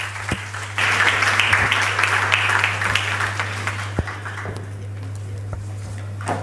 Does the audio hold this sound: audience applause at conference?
yes